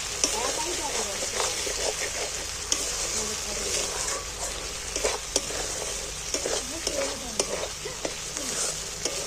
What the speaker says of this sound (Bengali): দেখো মশলাটা ভাজা হয়ে গেছে, তেলও ছেড়ে দিয়েছে।